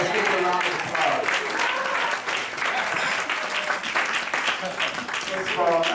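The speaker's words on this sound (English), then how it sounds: "Let's give them a round of applause" Church congregation applauding their pastor and his wife, a dense, steady wash of clapping lasting throughout, with voices and cheers mixed into the crowd noise.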